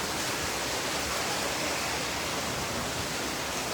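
Heavy rain pours in a steady, dense wash of broadband noise like a cyclone downpour, loud and unbroken with no voices.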